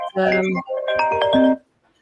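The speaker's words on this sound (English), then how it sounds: "that was my phone that went off that you probably heard" A loud electronic phone ringtone plays a short melodic phrase of tones, then stops and leaves silence.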